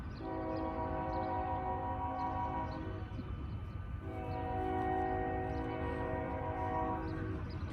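A Kansas City Southern locomotive horn sounds two long, loud, steady blasts with a short gap between them, over the rumble of a diesel idling nearby.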